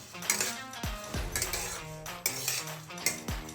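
Moong dal being roasted and stirred in a pan over a low flame: a spoon scraping and clinking against the metal pan in quick irregular strokes, close and clear, with no talk.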